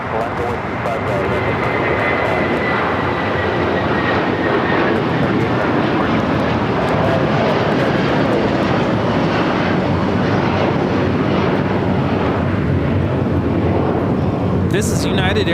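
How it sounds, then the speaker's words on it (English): United Airlines Boeing 757-300 taking off from runway 25 right at LAX, a loud, steady broadband jet engine roar filling the whole stretch, with faint background voices underneath. "This is United Airlines 2728 taking off to Newark on the 757-300"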